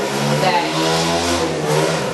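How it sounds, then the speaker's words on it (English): A motorcycle passes outside, its engine droning steadily with a rising and falling pitch throughout, fairly loud and close. "sorry, I got a motorcycle passing"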